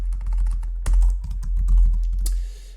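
Quick, uneven keystrokes rattle on a computer keyboard close by, with a heavier key press near the start and a final sharp tap.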